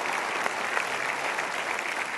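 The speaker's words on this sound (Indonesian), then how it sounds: "Berikan tepuk tangan, sahabat-sahabat kalian." Steady, dense applause from a seated audience at an Indonesian motivational seminar, a continuous wash of clapping filling the whole moment without a break.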